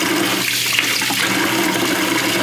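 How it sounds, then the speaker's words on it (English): Very warm water gushes steadily into a container for home-brewing beer, a loud continuous rushing and splashing that holds for the whole stretch, close by and without talk. "So I'm gonna mix up 2 gallons here. Very warm water."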